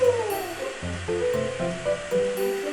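A hair dryer blows steadily during a puppy's dryer-training session, a continuous airy hiss with faint shifting whine tones, pulsing slightly as it moves.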